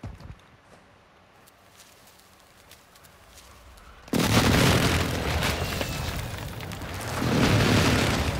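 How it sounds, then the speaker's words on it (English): Airstrike explosions in the Call of Duty video game, a sudden loud booming blast that breaks a quieter stretch, followed by a sustained roar of rumbling detonations and debris. "Friendly airstrike in the AO."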